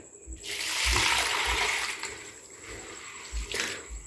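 Sago pearls are washed in water, with a sustained close splashing and sloshing that swells and fades, plus a few soft knocks, and no talking.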